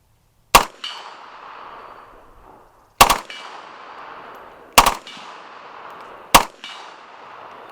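An RPK rifle with a binary trigger firing at a steel gong outdoors: four sharp, loud reports at uneven intervals, each followed by a ringing metallic clang that fades out.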